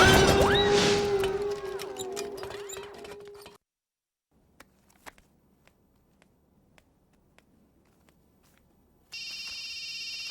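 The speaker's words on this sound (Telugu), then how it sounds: "ఫోన్ ఎత్తానాలమ్మా" A telephone rings loudly with a warbling electronic tone for a few seconds, then cuts to near silence with faint scattered clicks before another bright tone starts at the end.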